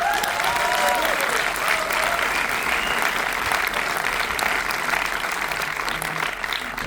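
A cinema audience at a film premiere at Pathé Wepler in Paris applauds loudly and continuously, a dense, even wash of clapping from a full room.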